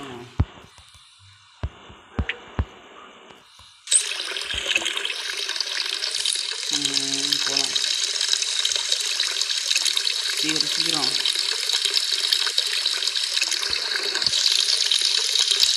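Water runs steadily from a tap in the video game Hello Neighbor, a continuous broadband hiss that starts abruptly after a few clicks and footsteps and keeps going loud and close to the end.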